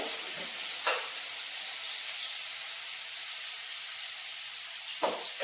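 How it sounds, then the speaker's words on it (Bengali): Eggplant frying in hot oil gives a steady, soft sizzling hiss throughout, with two brief louder spatters near the start and end. "ভালো ভাজা হলে বেগুনটা তুলে নেব"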